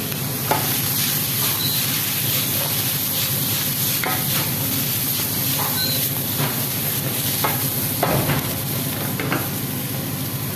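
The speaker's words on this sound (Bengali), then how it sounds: "জন্য ডাল রান্না করতেছি, ডাল বসাইছি।" Dal cooks in a pot with a steady close sizzle and bubbling hiss, broken by scattered clinks and scrapes of stirring; no one speaks.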